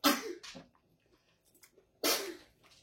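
A person sneezes twice, close and sharp, with a quieter breathy follow-up after the first burst and a brief quiet gap between them.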